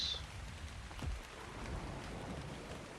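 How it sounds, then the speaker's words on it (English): Rain falls steadily in the Ark Survival Ascended game, a soft, even hiss of drops on the ground with a low rumble of thunder midway, fairly faint and with no talking over it. "it looks like it's raining in game"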